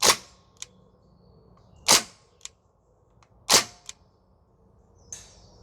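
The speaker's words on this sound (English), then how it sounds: "It is doing full auto in semi-auto for some reason." A Northeast Airsoft Mini UZI gas blowback rifle fires in four sharp, loud cracks spaced about a second and a half apart, each followed by a fainter mechanical clack, with a quiet gap between shots.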